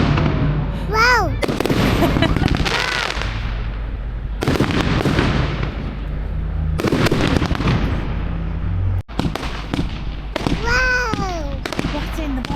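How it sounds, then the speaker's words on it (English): Bonfire night fireworks burst overhead in a loud series of booming explosions and crackles, with whistling rockets rising between blasts, close and powerful, while people's voices exclaim over the noise. "Fireworks."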